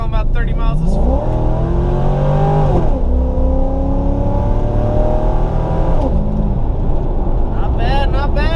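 Chevrolet Corvette C5 V8 engine pulling hard under acceleration on the road, a loud, steady rising drone with gear-shift dips, with someone speaking over it throughout.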